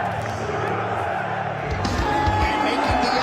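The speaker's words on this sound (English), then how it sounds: "Listen to the crowd." An arena crowd cheers as someone makes his entrance, a broad roar of many voices building into applause, loud and sustained, with a voice speaking over the noise.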